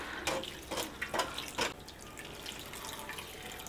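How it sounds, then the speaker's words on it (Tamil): Water is poured into a strainer and shaken to rinse the contents while making rasamalai sweet, giving a few short splashy bursts close by before settling into a faint trickle. "அதனால் தண்ணி ஊற்றி கொஞ்சம் அப்படியே ஷேக் பண்ணிகிட்டே இருங்க."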